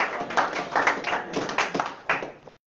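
A crowd at a Christian praise gathering applauds to glorify God, a dense burst of clapping swelling and dipping in waves for a couple of seconds before cutting off abruptly.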